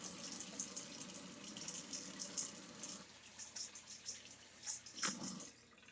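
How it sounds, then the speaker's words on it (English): Hands are washed under a running water tap with a faint steady stream, occasional splashes and quiet rubbing in a sink, heard alone. "let me go ahead and wash my hands"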